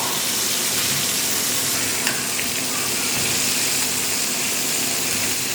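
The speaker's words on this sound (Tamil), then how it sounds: "இப்போ இதை வந்து நல்லா ஹை ஃப்ளேமில் நல்லா ஃப்ரை பண்ணி எடுக்கணும்." Oil sizzles steadily on a high flame as food fries for a homemade pizza night, a dense continuous hiss with a faint scrape near the middle and no voices.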